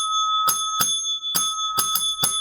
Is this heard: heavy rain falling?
no